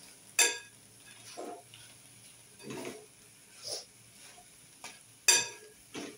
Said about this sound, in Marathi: आतां चवी पुरतें मीठ घालता आनी ही भाजी सगळी अशी धवळून घेता.